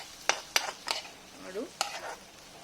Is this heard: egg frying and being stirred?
yes